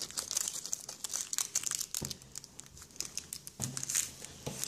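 A Pokémon Emerald booster pack crinkles and rustles as the cards are pulled out, with sharp crackling foil sounds in quick bursts, close and fairly quiet.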